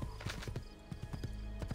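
Horse hooves clip-clopping in the video game Assassin's Creed II, a quick, even gait of distinct beats over steady game ambience, with a faint hint of a whinny.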